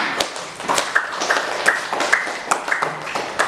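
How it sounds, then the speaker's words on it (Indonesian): Classmates clap in a school lesson, a small group giving scattered, uneven claps with sharp individual hits and light tapping rather than a full ovation. "Pasti tepuk tangan temannya"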